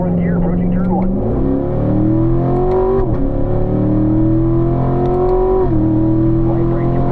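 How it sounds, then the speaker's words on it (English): A car on a race track accelerates hard up through the gears toward the first turn, its loud engine note rising in pitch and dropping at each of several upshifts, steady and close throughout. "Working our way up to 4th gear, approaching turn 1."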